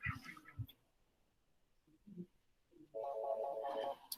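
A classroom telephone rings once loudly near the end, a steady buzzing electronic trill after a stretch of quiet, with brief speech at the start.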